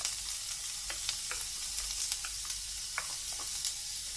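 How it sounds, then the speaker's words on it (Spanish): Sliced white onion sizzles in hot olive oil, a close, continuous frying hiss broken by frequent light scrapes and taps as it is stirred around the pan. "vamos a comenzar y agregamos nuestra cebolla"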